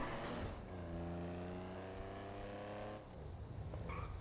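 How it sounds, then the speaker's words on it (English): A Benefactor Sterling GT classic sports car in GTA 5 revs and drives with a steady, close engine drone whose harmonic tone holds, then shifts as it changes gear near the end. "now we're with the Benefactor Sterling GT, one of the new sports classics"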